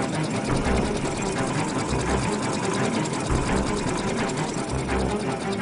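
An Edwardian-era tractor engine ploughing a field churns with a steady, rapid mechanical chatter, close and continuous throughout.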